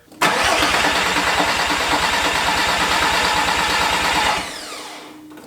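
A Porsche 944 with a swapped turbo five-cylinder 07K engine cranks without starting: a loud, steady, rapid rhythmic churning that runs for about four seconds, then winds down and stops.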